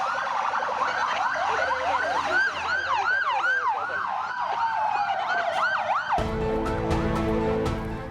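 A convoy of six ambulances wails together in overlapping rising and falling siren cycles, loud and close, before cutting off into a lower droning hum.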